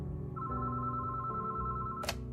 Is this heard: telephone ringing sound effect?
yes